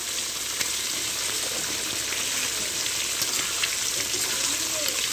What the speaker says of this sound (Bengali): এভাবে আমি ভালোভাবে কষিয়ে নেব।